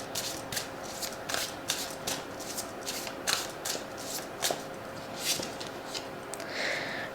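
Tarot-style reading cards are shuffled and drawn by hand with a soft, repeated riffling and flicking, a series of quick papery snaps with a faint steady hum behind them and no speech.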